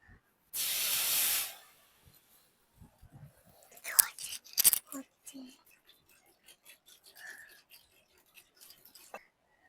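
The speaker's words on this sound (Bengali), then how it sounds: "মোচাটা সেদ্ধ করার জন্য এরপর আমি কড়াইয়ে জল দিয়ে দেবো।" Water is poured into a wok to boil chopped banana flower: a loud, steady rushing splash lasting about a second, then quieter kitchen clatter and soft, indistinct voice sounds.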